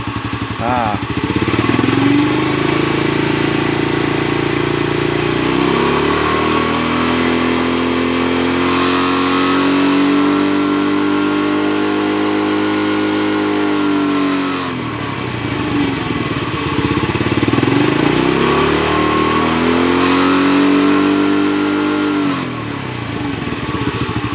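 A Honda Astrea Grand motorcycle engine revs up and holds high twice, the pitch climbing and sustaining before dropping back to idle between bursts, loud and close, with no talking.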